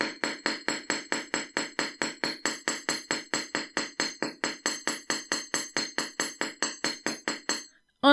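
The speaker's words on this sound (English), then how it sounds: "just gently hammer it until it's as flat and wide as you like it" Steady, rapid hammer blows flattening the fused end of a metal wire pendant, about four sharp ringing strikes per second, close and loud, continuing evenly for several seconds before stopping.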